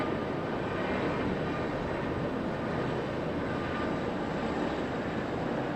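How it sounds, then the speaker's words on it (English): Two pairs of Chinook helicopters fly over near Okinawa, giving a steady, broad, distant rotor-and-engine roar that holds evenly throughout without talk. "This is two Chinooks and another two."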